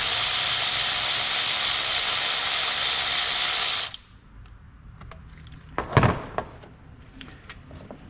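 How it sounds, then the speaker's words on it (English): A ratchet wrench loosens the lower thermostat housing bolt on a Chrysler 300 with a 3.6 engine, a steady loud clicking run for several seconds that stops abruptly, followed by faint clinks and a sharp metallic knock. "So while I remove this lower bolt, I'm going to apply pressure."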